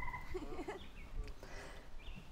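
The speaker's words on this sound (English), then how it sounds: "I don't know what bird that is." A bird calls outdoors in a park area where trees have been cut, giving a few short warbling notes at moderate distance against steady background noise.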